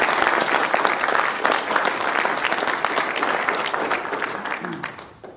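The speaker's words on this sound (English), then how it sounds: "So round of applause for parents." A crowd at a Scout troop Eagle court of honor applauds the parents, with sustained, dense clapping throughout at a steady level and some voices mixed in beneath it.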